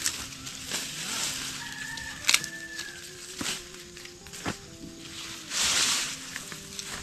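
Chickens on a rural farm in a corn-harvest setting, with scattered clucks and a few short crowing calls over steady outdoor background noise, moderately near, plus a couple of sharp knocks.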